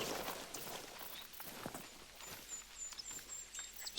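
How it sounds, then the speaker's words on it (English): Animal footsteps running in Hunter: Call of the Wild: faint, uneven patter of hoofbeats on ground in an outdoor setting, with light rustling and a distant bird whistle, heard alone without talk. "Wow, I still hear footsteps running."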